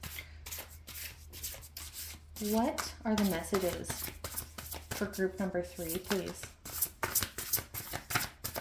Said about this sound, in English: I'm just shuffling off camera here